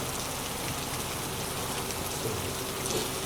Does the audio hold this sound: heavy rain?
yes